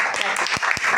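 Applause from a group of children rewarding a correct answer during a classroom spelling and word-meaning competition, with short bursts of clapping mixed into steady chatter and room noise.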